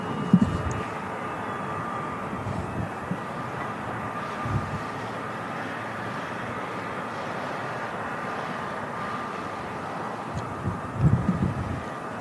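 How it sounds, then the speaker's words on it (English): Airbus A380 departing Manchester Airport, a steady distant engine roar and broad rumble holding throughout, with a few brief closer bumps near the start and end, no talking. "We'll keep an eye on the A380 leaving."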